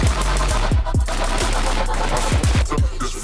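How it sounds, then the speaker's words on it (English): Rapid bursts of rifle fire from an HK416 built for night-vision operation, loud and close, with repeated sharp shots in quick clusters and ringing echoes between them. "So today we were shooting with HK416."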